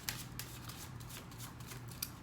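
Tarot cards are shuffled by hand in a steady run of soft riffling flutters, close and quiet, with no talk.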